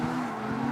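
A car in the CarX Street racing game spins out, its tires squealing in a continuous screech over the engine's roar, loud and close for a brief moment.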